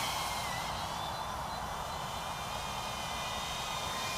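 An Eachine Viswhoop FPV drone flies nearby with a continuous, even high-pitched whine of small motors and propellers, steady in loudness.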